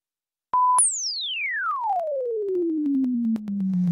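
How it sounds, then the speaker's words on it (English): A short steady test tone, then a loud sine sweep gliding smoothly downward from high to low pitch, played from a mouth simulator during headphone and voice-trigger measurement; clean and alone, with no voices. "here we're going to combine the recorded activation word with a frequency sweep typically"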